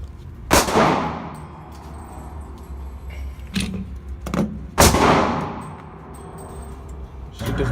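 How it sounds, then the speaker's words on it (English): Two sharp, loud pistol shots ring out at an outdoor shooting range, each followed by a lingering echo, with a few fainter clanks and thumps between them. "meanwhile, while she's shooting"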